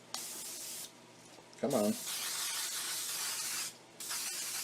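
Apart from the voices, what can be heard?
spraying cooking spray onto a baking pan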